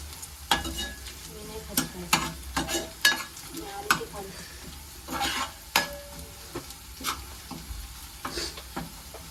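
Onion frying in a pan for a fish curry, with a steady sizzle under repeated sharp scrapes and clinks of a spoon stirring against the metal, close and fairly loud, with no voices.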